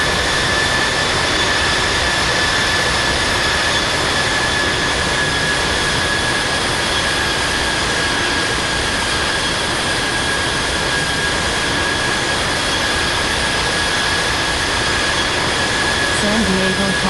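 A Boeing 747-200's jet engines roar at takeoff in the Infinite Flight simulator, a loud, steady, unbroken wash of engine noise with a thin whine held throughout.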